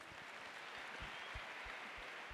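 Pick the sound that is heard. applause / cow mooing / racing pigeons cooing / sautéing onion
applause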